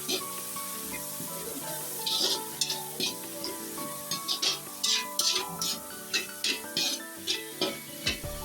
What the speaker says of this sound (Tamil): நான் ஒரு 3 முட்டை சேர்த்துட்டு அதை வந்து ஒருக்கா மிக்ஸ் பண்ணி விடுறேன்.